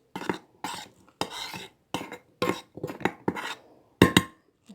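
A saffron herbal mixture stirred in a dish, a series of about nine distinct scraping and clinking strokes with short pauses between them, close and fairly quiet, with no voices.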